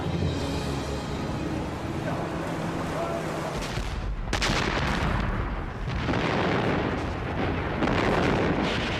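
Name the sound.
German artillery guns firing at Anzio landing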